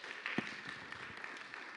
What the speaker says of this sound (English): So let's give Devin some applause because he's a little bit nervous.